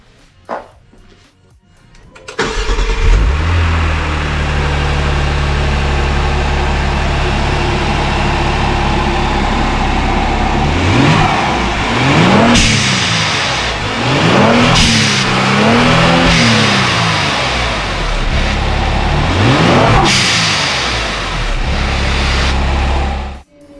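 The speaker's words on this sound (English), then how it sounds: "let's see how these hybrid go fast bits blow off sound" A Genesis G70 3.3T fitted with GFB Hybrid dual blow-off valves idles after starting, then revs sharply several times, each burst rising and falling with a quick release, close and loud and with no speech.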